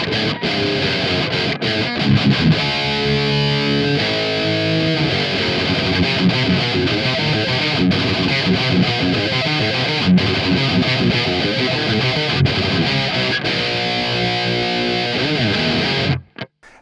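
Heavily distorted electric guitar through a Marshall DSL amp with EQ plays a loud, sustained riff with chugging chords and ringing notes, continuous throughout before cutting off abruptly at the end.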